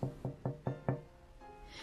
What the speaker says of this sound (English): Nina continued playing, but again she heard some knocks.